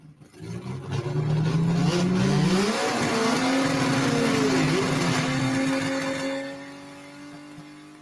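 Gasser-class drag race cars accelerate hard at a Brainerd drag race, a loud sustained engine roar with rising revs that holds for several seconds, then fades as the cars pull away.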